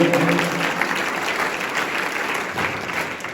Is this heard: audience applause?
yes